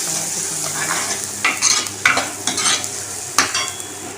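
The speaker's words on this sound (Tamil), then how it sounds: "காரத்துக்கு கொத்தமல்லி தூள் இதெல்லாம் நல்லா அந்த எண்ணெயிலே வந்து பச்சை வாடை போட நல்லா வதக்கணும்." Chilli and coriander powder frying in oil for fish curry, a continuous sizzle broken by repeated scraping stirs of a spoon against the pan, close and without speech.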